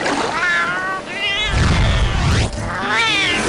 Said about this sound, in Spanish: Al menos Big Boss puede consolarse pensando que uno de sus amigos es un gato parlante.